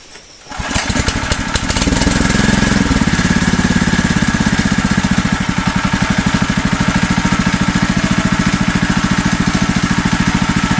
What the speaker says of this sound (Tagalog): paandarin na natin yung makina